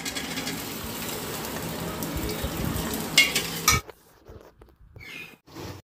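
Chopped onion with garlic and ginger fries in hot oil with a busy crackling sizzle for about four seconds, then cuts to near quiet broken by a few light clinks.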